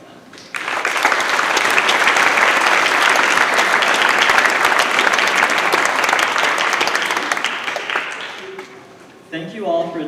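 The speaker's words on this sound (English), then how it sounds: "Please join me in a round of applause to thank them." Audience at a National Honor Society induction ceremony applauds the inductees' families, a loud, sustained round of clapping that swells quickly, holds for several seconds, then fades as a voice begins speaking.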